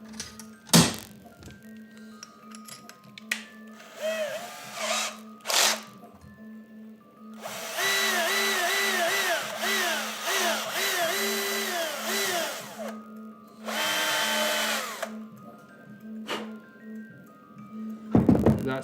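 A hand-held power drill with a bit from a metric drill set bores through a part in a workshop, with several whining bursts of the motor separated by pauses, clicks and thunks.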